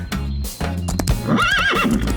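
A horse whinnies loudly and close, a rising then wavering neigh following a few snorts and hoof-like knocks.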